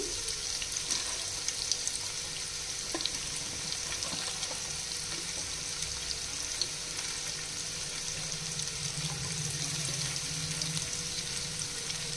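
Bitter gourd and potato pieces fry in hot oil, giving a steady, moderately loud crackling sizzle with faint stirring sounds and no talking.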